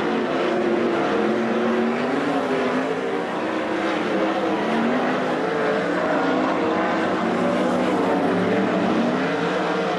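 Sprint cars from the World of Outlaws NOS Energy Drink Sprint Car Series roar around a dirt oval on a final lap, a loud continuous howl of engines that rises and falls steadily as the pack passes through the turns.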